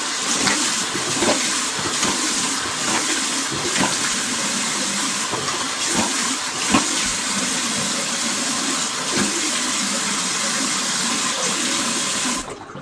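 Water from a tap runs steadily and fairly loud while someone rinses a flour face mask off their face. The flow is continuous with faint splashes, and no one speaks.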